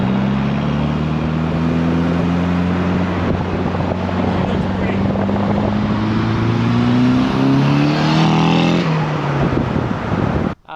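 Datsun 510 with a standard SR20 turbo engine, Nis tune and front-mount intercooler, revving loud and close, its note sweeping up and down over several seconds before cutting off abruptly.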